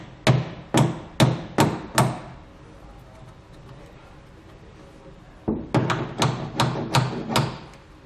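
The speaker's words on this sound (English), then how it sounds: "you can just take a hammer and kind of tap it in" Two bursts of sharp hammer taps on a metal hitch rail part, five strikes in a quick even rhythm, a pause, then about seven more, close and loud.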